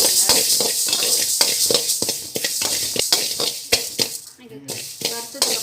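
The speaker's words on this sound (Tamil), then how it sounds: "வெந்தயம் வந்து செவக்க வறுத்துக்கோங்க." Fenugreek seeds roasting in a dry pan, stirred until reddish, giving a steady scratchy sizzle with small crackles and a few sharp clicks throughout, close by.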